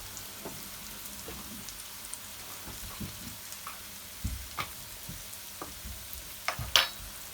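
Curry powder, all-purpose seasoning and black pepper brown in a pot for a seafood curry, with a soft background sizzle broken by irregular scraping stirs and knocks that grow louder toward the end.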